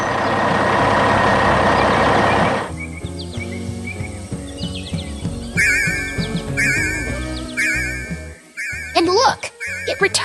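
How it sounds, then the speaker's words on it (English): A full dump truck rolls out in an animated construction scene, starting with a loud engine roar that gives way to quieter rumbling, reversing beeps and chirpy birdlike tones layered on top. "The truck is full and rolling out"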